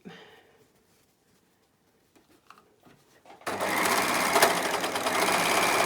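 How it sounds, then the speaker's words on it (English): An overlocker sewing machine starts up abruptly midway and runs steadily and loudly, stitching into the corner of a fabric face mask after a few faint handling clicks. "I'm going to sew into the corner, leaving a pocket and the whole of that edge"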